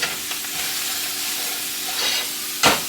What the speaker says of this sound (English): I'm going to put some onion